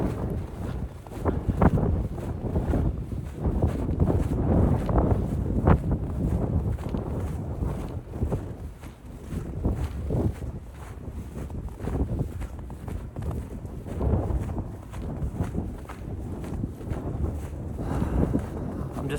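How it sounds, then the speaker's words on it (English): Wind buffets the microphone outdoors on a pier, a continuous gusting rumble that swells and eases throughout. "I'm just allowing for the wind to have its place."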